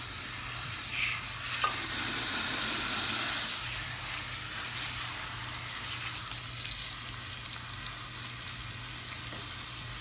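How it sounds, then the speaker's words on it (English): Water runs steadily from a shampoo-bowl sprayer as hair color is rinsed out at a salon, a continuous broadband hiss with faint splashes and no voices. "is rinsing the color out"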